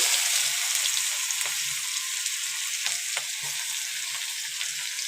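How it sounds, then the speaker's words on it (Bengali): Chopped onion and whole cumin seeds frying in the oil left from frying fish, a steady loud sizzle with faint stirring scrapes underneath and no talking. "পেঁয়াজটা দিয়ে একটু ভালো করে নাড়বো"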